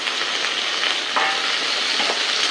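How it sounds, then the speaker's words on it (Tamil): Onions and tomatoes sauté in a pan for South Indian sambar, a continuous close sizzle and crackle with faint stirring clicks and no voices. "இப்போ நான் வந்து வெங்காயத்தை போட்டு வதக்கிறேன்"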